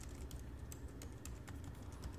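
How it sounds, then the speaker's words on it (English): Normal typing on an ASUS N550JK laptop keyboard, a steady run of light, quick key clicks over a low background hum, close and fairly quiet with no talking. "for the flex, you can see just normal typing."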